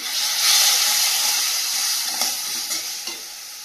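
Spice paste for katla fish kalia frying with a little water in a pan, a loud steady sizzle and hiss with scraping stirring strokes, close up and without voices.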